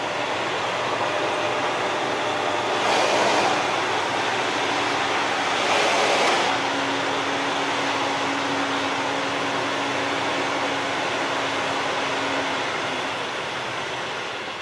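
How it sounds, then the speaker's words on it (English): A truck backing into a customer's loading dock gives a steady, loud engine drone, with two short bursts of air hiss and a low sustained tone partway through. No one talks. "Sorry if that's a little bit noisy from the reverse."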